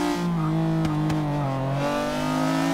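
A McLaren F1 GT's V12 engine in Forza Motorsport 6 holds a loud, steady rev with strong harmonics, pitch dipping slightly as it settles, with no voices.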